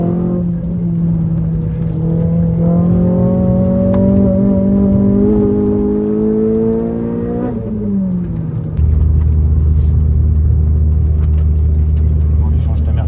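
Naturally aspirated engine of a Renault Clio 3 RS, heard from inside as the revs climb steadily and then drop into a lower, droning pull, loud, with people talking over it.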